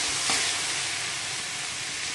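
Food cooking in a pan with salt and turmeric being stirred in: a steady, fairly quiet sizzling hiss with one brief scrape of a spoon near the start, heard up close with no voices.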